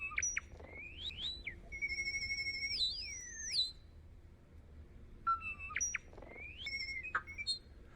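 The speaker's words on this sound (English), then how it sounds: "I don't know what bird this is." Several bursts of whistled, chirping bird calls with sweeping and looping notes, separated by short pauses, fairly close and clear over a low background rumble.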